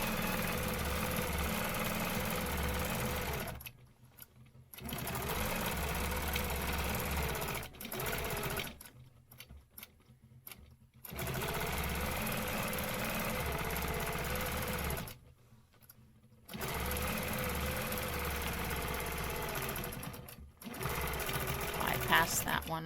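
A sewing machine stitches a stencil design in long steady whirring runs broken by several brief pauses, close and continuous, with someone speaking over it at times.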